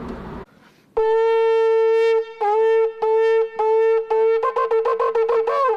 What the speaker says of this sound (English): That's the sound of the shofar.